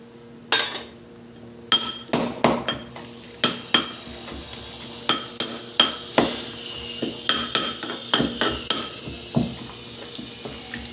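Chopped onion is mixed by hand into an old-style brinjal roti chutney with tamarind, making a series of sharp clinks and knocks against the vessel that repeat unevenly and fairly close.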